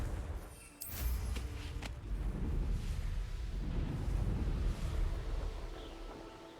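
A Confringo blasting spell cast in Hogwarts Legacy sets off a sudden loud burst that rolls into a sustained roaring, rumbling wash lasting several seconds before easing slightly at the end.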